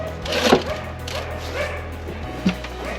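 Dog barking in the background at a farm garden while garlic is planted, two distinct barks about two seconds apart, moderately distant over low steady background hum.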